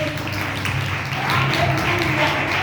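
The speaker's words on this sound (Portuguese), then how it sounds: "E as palmas bem alegres do Senhor." A church congregation claps joyfully in a quick, continuous patter over low, steady music that fills the room.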